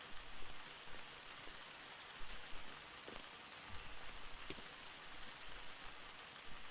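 Rain falls at night in the video game Hitman: Contracts, a dense, even hiss of drops on hard surfaces with occasional louder patters, steady and fairly quiet with no voices.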